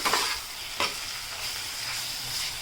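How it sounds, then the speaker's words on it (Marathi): Onions frying with ginger-garlic paste in a pan for prawn pulao, a soft continuous sizzle close by with a couple of scraping stir strokes. "आपण इथे आता कांद्यामध्ये आले लसूण पेस्ट मिक्स करून घेतलेली आहे"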